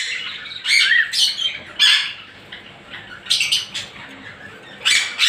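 Pet cockatiels and budgerigars squawk in breeding cages, with several loud, harsh calls in separate bursts, close by, and quieter chirps between them.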